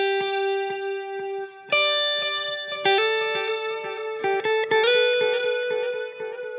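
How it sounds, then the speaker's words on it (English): Electric guitar played through an El Capistan tape delay pedal with the mix at noon and many repeats, giving plucked notes and chords that trail into a dense wash of echoes, loud and alone. "So on my El Capistan, the mix is at noon and a lot of repeats."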